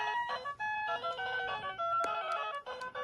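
A short melodic electronic startup tune rings out from an Object PXP 3 Slim Station MD-2700 16-bit retro handheld console, with bright chiming notes in quick phrases, fairly loud and alone.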